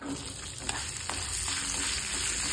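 Spices (chana dal, urad dal, mustard seeds, cumin, dried and green chillies, turmeric, asafoetida) crackle and sizzle in hot oil for ridge gourd chutney, a close, steady frying hiss with a few sharp pops and stirring sounds, no speech.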